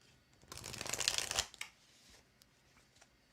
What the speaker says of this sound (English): Brittany, I'm going to shuffle for you at this time.